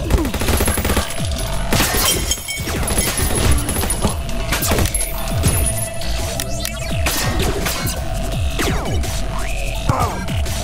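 Rapid, dense gunfire in the first-person shooter Vindicta, with repeated sharp shots and bursts overlapping throughout alongside impacts and a sustained electronic tone, loud and continuous.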